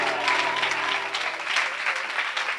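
A church congregation applauds during a sermon, producing sustained, fairly loud clapping from a large crowd with a low sustained tone and faint murmurs mixed in.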